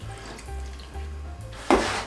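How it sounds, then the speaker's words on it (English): Water is poured into an egg replacer mix with a little oil, a brief gush of running liquid after quiet kitchen handling sounds. "And we'll just add some water in."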